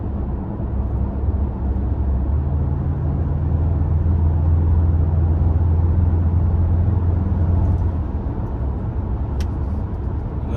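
A 2021 Mazda CX-5 Grand Touring Reserve cruising at 60 mph, heard from inside as a steady, loud low road and engine rumble with constant tire noise throughout.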